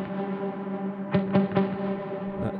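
An electric guitar runs through a reverb pedal with its expression pedal pushed fully up, a few plucked notes ringing into a long, washy, sustained tail that hangs over a steady droning bed.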